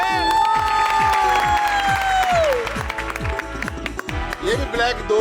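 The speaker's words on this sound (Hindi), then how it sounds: "बहुत सारी तालियां निदा के लिए क्योंकि वो ये गेम जीत गई है" A TV couple-show audience claps and cheers for Nida after she wins a game. A loud burst of applause and shouting rides over a thumping beat and swooping music, with voices mixed in.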